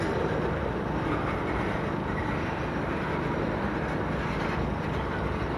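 A long freight train rumbles past in a steady, unbroken roar of wheels and rattling cars, loud and continuous throughout.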